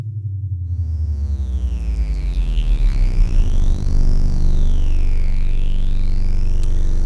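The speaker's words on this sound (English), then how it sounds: "with distortion, it becomes an actual synth sound" A buzzy, distorted synth tone holds a low pitch with a whistling high component sweeping up and down, loud and continuous without speech.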